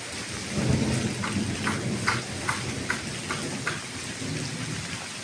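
First rain of the season falls in a village, a steady close patter of drops with a low rumble of thunder beneath and a few sharper drip taps, and no voices.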